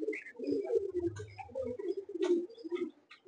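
Malwai pigeons kept at Baruipur, a soft, low cooing repeated several times in short bursts, close by, with faint chirps above it.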